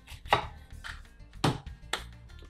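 A knife chops onion for guacamole on a board: about five crisp, close, evenly spaced cuts, each a sharp thud with a brief crunch, no talk.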